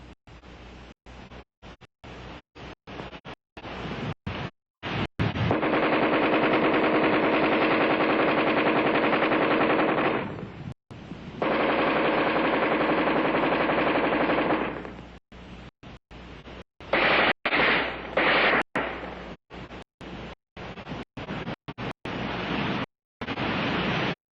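Armalite AR-10 rifle firing in long, loud fully automatic bursts, several sustained strings of rapid shots separated by short gaps, with scattered single shots between them.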